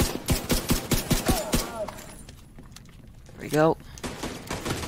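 Rapid gunfire from The Division 2 rattles off in a fast string of sharp, loud shots, then stops into a quieter stretch with a brief tonal chirp and renewed noise. A person talks over the shooting.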